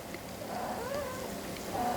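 A house cat meows indoors, a soft, fairly faint drawn-out call with rising and falling pitch, followed by a second short mew at the end.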